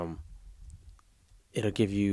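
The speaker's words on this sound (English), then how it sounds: "So if you hear me typing, that's me actually typing." Faint, quick clicks of typing on a computer keyboard fill a short pause, with a person talking just before and after.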